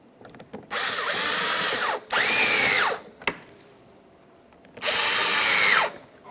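Power drill driving screws into a front license plate bracket and bumper cover on a 2012-2015 Honda Civic, three loud close whirring bursts with quiet gaps and small clicks.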